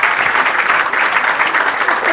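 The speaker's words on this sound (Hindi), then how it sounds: "ताली बजा थोड़ी।" A gathering claps along at a satsang talk, a close, loud and even patter of many hands with a faint murmur under it.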